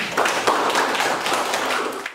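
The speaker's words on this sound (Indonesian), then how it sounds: "tepuk tangan untuk Vera" A school class bursts into dense, fast applause for a student, many hands clapping close by in a loud continuous patter that tapers off at the end.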